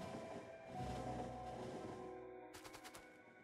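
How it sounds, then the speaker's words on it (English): A train in the video game Factorio rumbles past, swelling then fading, followed by a quick burst of rapid rattling clatter at the end. "Oop, train."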